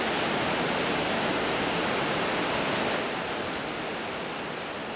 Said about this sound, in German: Am 50 Meter hohen Savica-Wasserfall.